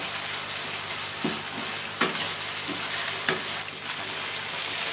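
Steady oil sizzle and crackle from ginger garlic paste frying in a pan, with occasional scraping stir sounds, close and continuous.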